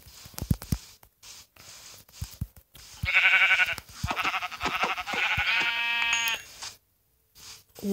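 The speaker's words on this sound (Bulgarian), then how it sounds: "Колко овце има там." Sheep bleating in the game Minecraft, several wavering nasal bleats in a row, loud and near, mixed with clicking and tapping of gameplay and a brief silent gap.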